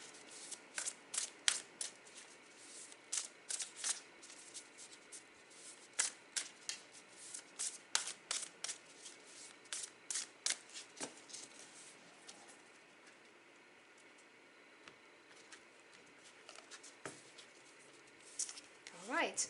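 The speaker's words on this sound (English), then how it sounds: "I shuffled my cards thoroughly" Tarot cards being shuffled by hand, giving repeated soft riffling bursts and crisp card flicks at close range. The bursts come in irregular clusters, with quieter gaps between them.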